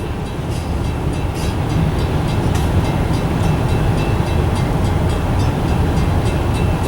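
A Norfolk and Western salt train pulls out of Mount Morris, a loud, steady rumble of rolling rail cars with continuous low clatter and no talk.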